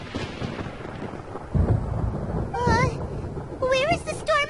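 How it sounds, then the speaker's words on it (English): Thunderstorm in the Genshin Impact video game: rumbling thunder and storm noise roll under continuous character dialogue, with a few swelling surges of louder rumble. "Where is the storm headed?"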